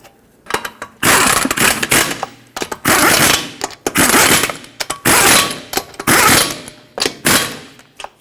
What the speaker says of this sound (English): And now start in all 5 of your lug nuts.